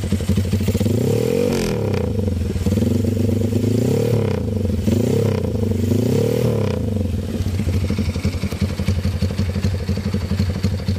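A Honda CB motorcycle fitted with a PE 33 Jumbo carburetor revs hard and steadily, its loud, close engine holding a rough, throbbing drone with rising and falling throttle blips and no talk.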